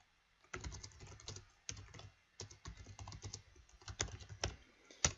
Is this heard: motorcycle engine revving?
no